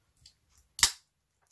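A single crisp metallic snip of the small scissors on a Victorinox Timekeeper pocket knife, close and fairly loud, preceded by two faint clicks, then silence.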